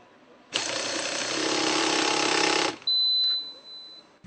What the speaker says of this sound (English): An operator is using the Yokota system wrench YED90 for tightening steering housing bolts